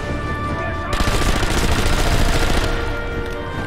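Sustained gunfire in Sniper Elite V2, a dense rattling burst of rapid shots lasting about two seconds over continuous game background noise.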